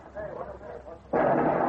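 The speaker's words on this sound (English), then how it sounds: "That's blasting. They've already begun." Distant explosive blasting at the Panama Canal construction site arrives as a sudden broad, sustained roar that cuts in after a stretch of quiet, muffled rumble and faint background voices.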